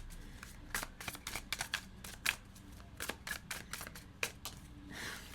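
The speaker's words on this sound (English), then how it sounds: "I'm just going to give it one final shuffle here" Quick crisp riffling and slapping of tarot cards being shuffled in irregular bursts, close and fairly soft, with no voices.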